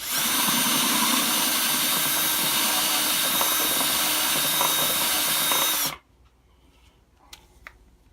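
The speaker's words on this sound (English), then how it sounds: "All I got to do is pass that reamer through one more time and make sure I got everything all the way through." Power drill driving a reamer through a ukulele body, a loud continuous high whine that runs for about six seconds and then stops abruptly, leaving near silence with a couple of faint clicks.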